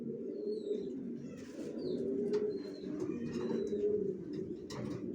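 Racer pigeons coo continuously and close by, with soft throaty rolling calls layered over one another and a few higher chirps scattered through, with no talk.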